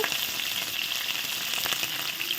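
Pointed gourd frying in a pan sizzles steadily while being stirred with salt, a dense continuous hiss with light scraping pulses close by.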